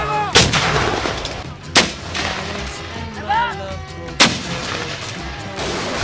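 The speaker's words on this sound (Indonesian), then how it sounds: "melaksanakan penembakan secara berturut-turut, yaitu pertama tembak tinjau sebanyak 4 butir oleh roket multilaras RM-70 Grad dan 4 butir dari meriam howitzer 105 mm" Heavy artillery booms from 105 mm howitzers and RM-70 Grad multiple rocket launchers at a military exercise, three loud sharp blasts spaced a couple of seconds apart over a rumbling outdoor background.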